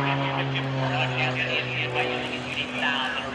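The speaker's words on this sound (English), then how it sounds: "let's see him fly down on its side towards the runway at over 80 miles an hour with a knife edge spin" A propeller aerobatic airplane drones steadily at an air show during a military open house, with a sustained engine tone under a loud announcer's commentary over the public address.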